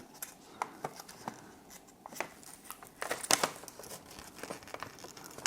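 Crinkling and rustling of the tough, papery membrane pulled from a dissected reverse-osmosis water filter cartridge, a run of soft, close crackles and crumples with sharper bursts partway through, with no talking over it.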